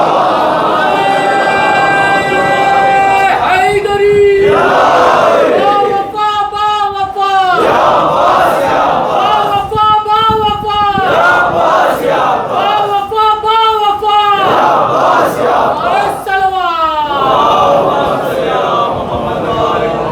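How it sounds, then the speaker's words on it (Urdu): A majlis audience at an 8th Muharram gathering in Kolkata loudly recites salawat in unison, the massed voices swelling in several repeated chanted waves that fill the hall, close and powerful. "ایک بابا سے بلند صلوات بھیجتے ہیں"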